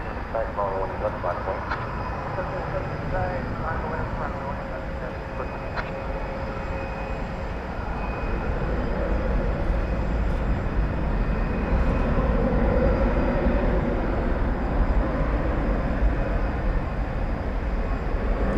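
A FedEx mainline jet passing at DFW Airport, a broad engine roar that holds steady and then swells louder in the second half, heard from a distance outdoors.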